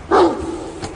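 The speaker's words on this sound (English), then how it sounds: "He wouldn't bark if there weren't somebody there." A dog gives one sharp, close bark, followed by a fainter short yelp a moment later.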